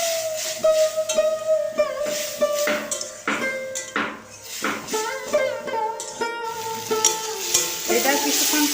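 Ground spices sautéing with fried onions in a pan for a fish curry with Malabar spinach leaves and mourala fish, giving a close, steady sizzle broken by repeated metal spatula scrapes and clinks against the pan.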